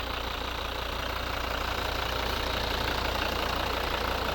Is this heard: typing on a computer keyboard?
no